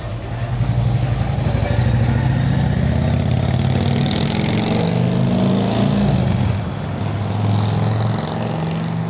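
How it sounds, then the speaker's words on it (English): A loud motorcycle engine drones close by in Benton, Illinois, its pitch sliding as it rides past, then easing slightly toward the end. "See somebody over here riding a motorcycle."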